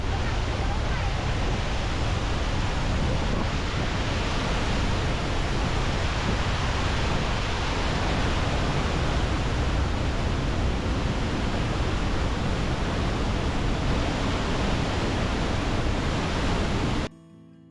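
Lundbreck Falls roars with a steady, dense wall of rushing water, loud and unbroken throughout before cutting off abruptly near the end.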